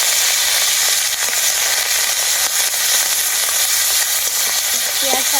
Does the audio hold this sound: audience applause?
no